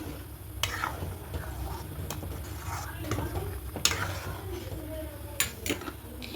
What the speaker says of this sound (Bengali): একটু ভালো করে তলা থেকে একটু নাড়িয়ে নেবে হবে